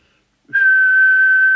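A single steady, pure whistle held at one pitch for about a second, loud and close to the microphone of an Albrecht AE6199 CB radio during transmit alignment, starting abruptly after a short silence.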